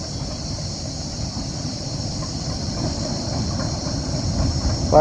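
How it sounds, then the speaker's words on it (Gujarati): A train rumbles steadily into Sasan Gir station, its clattering growing slightly louder toward the end, where a brief metallic squeal cuts through. "ફાઇનલી આપણી ટ્રેન સાસણ ગીર સ્ટેશન પર આવી ગઈ છે"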